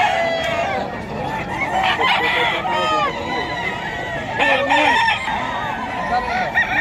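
Gamefowl roosters crowing repeatedly at a crowded predawn pet market in Bocaue, Bulacan, several overlapping calls near and far mixed with clucking while someone talks over them.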